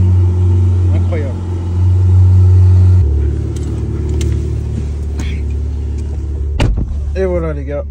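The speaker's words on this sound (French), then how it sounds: "On a récupéré la bête 488 Spider, celle qui est venue remplacer la 458 Italia. Alors on n'a pas la même sonorité que la 458" Ferrari 488 Spider sports car, the turbocharged successor to the 458 Italia, idles with a steady low rumble close by that shifts slightly in pitch, joined by a brief sharp blip near the end and a short voice.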